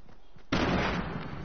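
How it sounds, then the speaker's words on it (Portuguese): Gunfire in the Fortnite video game cuts in as a sudden loud burst, then a dense crackling spray of shots runs on for about a second. "Ouvi tiros."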